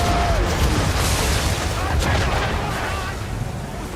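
Ship cannons boom in an Assassin's Creed III naval battle, a dense roar of cannon fire and rumbling blasts under shouting crew voices and battle noise, loud and sustained throughout.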